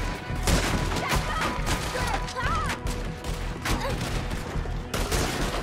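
Rifle fire in the video game Red Dead Redemption 2 during a shootout with O'Driscoll gang members, a rapid scatter of gunshots and cracks, some near and some farther off, with shouting voices mixed in.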